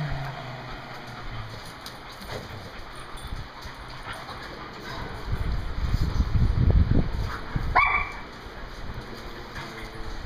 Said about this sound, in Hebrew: וכל הכלבים משחקים.